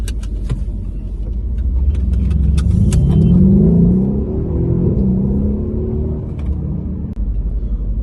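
A Mercedes CLS 63 AMG engine accelerates from inside the car, a deep rumble rising in pitch and swelling in loudness, then easing back to a steady cruise, with a few faint clicks and no talking.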